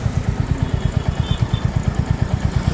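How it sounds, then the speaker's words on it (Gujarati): A motorcycle engine on a ride from Ahmedabad toward Khambhat drones with a fast, even low-pitched pulsing beat, loud and steady with road and wind noise above it. "અમદાવાદથી બાઇક લીધું છે અને વિચાર્યું કે આજે રાઈડ લઈ જ જાઉં"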